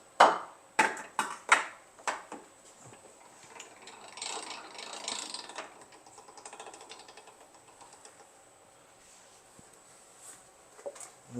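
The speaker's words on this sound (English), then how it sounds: "we're just filling up the stuffer here. Just a little 5-pound stuffer." A small 5-pound sausage stuffer is cranked while filling with boudin mix, giving a few sharp ratcheting clicks at the start and then steady, quieter mechanical gear grinding and clatter close by.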